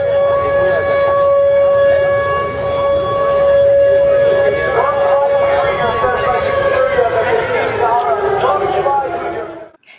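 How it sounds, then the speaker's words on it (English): Amplified air raid siren blaring down Marietta Street in Atlanta at a pro-Israel rally, a loud sustained wail with a crowd murmuring beneath, cutting off abruptly at the end. "an amplified air raid siren is blast down Marietta Street"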